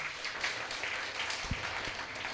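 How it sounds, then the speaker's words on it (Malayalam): Applause from an audience at an Onam celebration musical event on a seashore in Chathannoor, a faint, steady patter of many hands clapping at a distance for the full few seconds. "എല്ലാവരും കൂടെ ചേർന്ന് അദ്ദേഹത്തിൻ്റെ ഒരു കൈയടി കൊടുത്തേ"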